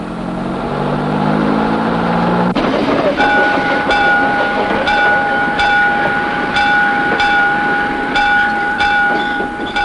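The Calico Railroad train at Knott's Berry Farm rumbles along the rails with a steady mechanical roar, then a long two-tone whistle sounds continuously over rhythmic clicking of the wheels.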